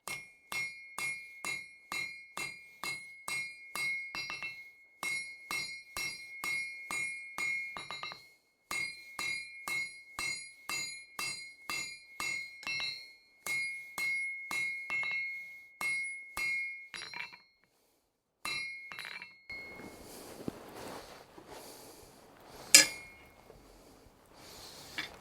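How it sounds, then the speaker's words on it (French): A small 2 kg hammer forges an old file into a sabre, striking steel on the anvil in fast, ringing bursts of evenly spaced blows with brief pauses, then scattered lighter taps and scraping near the end. "Maintenant, travaille qu'au petit marteau."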